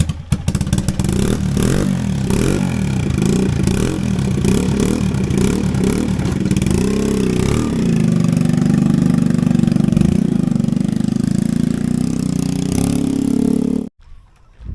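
A motorcycle engine revs up repeatedly in quick bursts, then holds a loud, steady roar up close before cutting off abruptly near the end.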